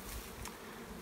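Honey bees buzz around stacked hive boxes of a small colony that has moved up into the top box, a steady close hum of many wings that fills the whole moment with no voices.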